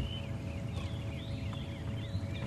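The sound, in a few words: birds singing at sunrise after rain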